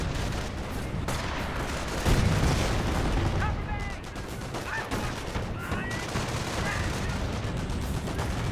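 Gunfire rattles across a Company of Heroes battle, with steady bursts of shots and booms crackling under a commentator's continuous talk.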